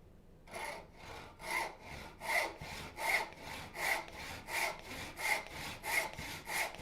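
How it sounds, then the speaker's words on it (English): Hand saw cutting a lap joint in Spanish cedar for a mitered half lap, a steady run of about a dozen rhythmic push-pull strokes, close and clear, with no talking. "Now I will saw the lap"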